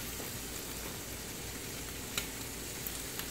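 Tortillas sizzle in a very hot pan with a steady, quiet hiss and a few faint crackles, and no voices.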